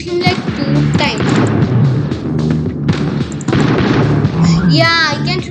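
Gunshots and explosive booms from the mobile video game Johnny Trigger during a boss fight, sharp repeated pops mixed with game music, while a young player talks excitedly over them.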